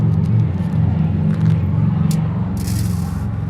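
Neighborhood road traffic rolls past outside, a steady low rumble of a car passing with faint scraping and rattling, continuous and fairly close, with no voices.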